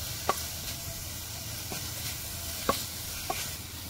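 Spices and chaat masala sizzle and cook in a pan for samosa filling, a steady soft hiss with a few faint scrapes of stirring, quiet and close, no voices.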